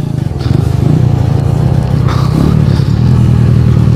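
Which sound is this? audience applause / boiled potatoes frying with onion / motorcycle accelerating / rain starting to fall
motorcycle accelerating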